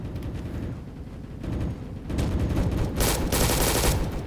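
Gunfire in the Roblox shooter RECOIL, dense rapid bursts of automatic shots with explosive cracks building toward the end, loud and continuous.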